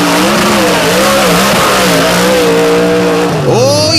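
A 427 small block Chevrolet-powered Jeep roars loudly down a drag strip, its engine note climbing steadily as it accelerates, with a sharp shift in pitch near the end as it pulls away.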